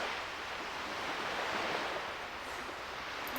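Water flowing in theHunter Classic hunting game makes a soft, steady rushing hiss, faint and continuous with no distinct splashes or voices.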